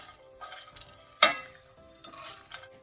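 Fenugreek seeds and chana dal are tossed in a hot pan, giving soft rustling and sizzling with a sharp scrape of the utensil against the pan partway through, then more gentle stirring.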